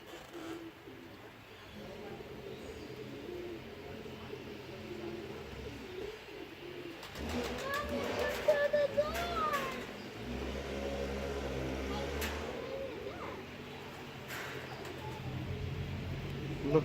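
Pigeons coo softly amid general outdoor ambience, with a passing car revving partway through and faint bird calls scattered across the scene.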